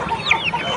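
Chickens and a rooster cluck at a weekly village market in Vadalur, a brief burst of close, busy fowl calls over steady market background.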